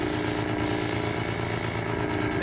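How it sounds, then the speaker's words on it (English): Aquatint spray hissing steadily from a spray gun aimed at an intaglio printing plate, a continuous close airy rush with no pauses and no voices. "Open it up, get some spray going through it."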